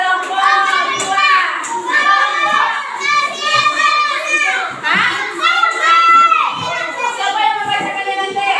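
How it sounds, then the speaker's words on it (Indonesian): Classroom of young children clapping for a group of classmates, the rhythmic claps mixed with loud chanting and lively children's voices close by for the whole stretch. "Tepuk tangan untuk kelompok 2."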